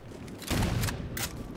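Gunfire from a weapon in the sci-fi shooter Halo 4 comes as a booming burst followed by a second, shorter crack, moderately loud against the game's background din.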